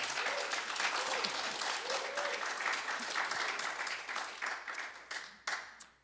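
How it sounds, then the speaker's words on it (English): An audience at an annual meeting gives a round of applause, a dense, fairly close clapping that fades and breaks into a few last scattered claps at the end. "I think he deserves a little round of applause here right now."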